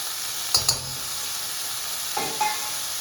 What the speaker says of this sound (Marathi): हे छान आता आपण परतून घेऊ